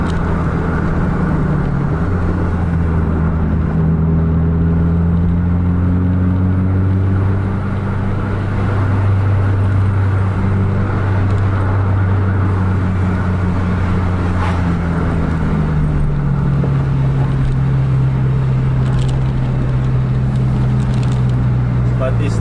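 Two buses cruise nose to tail at 110 km/h on a highway, their engines giving a loud, continuous drone that rises and falls slightly in pitch the whole time, with wind and road roar underneath.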